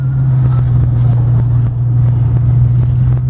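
A limegold 1967 Ford Mustang GTA S-Code coupé engine runs steadily at idle or low speed, a loud, close, continuous low rumble with no talking.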